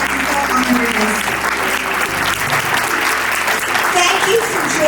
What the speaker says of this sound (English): Let's have another round of applause for all of our wonderful honorees